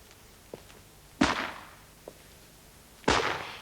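Firework effect that starts and stops at regular intervals: two sharp loud bangs about two seconds apart, each decaying in a brief hiss, with small pops between them, in otherwise quiet surroundings.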